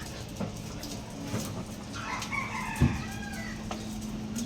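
Chickens cluck and a rooster crows faintly in a busy outdoor yard, with a dog whimpering now and then and steady background hum.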